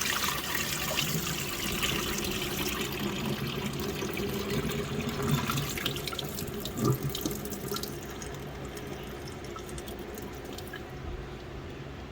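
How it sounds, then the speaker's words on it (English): Coconut husk being rinsed under a running tap, a steady close rush of water splashing into a sink that thins slightly toward the end, with faint handling sounds and no talking. "Now we're going to rinse the husk like we had been doing."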